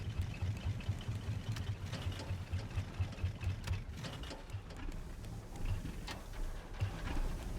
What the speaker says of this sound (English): let me shut off the engines here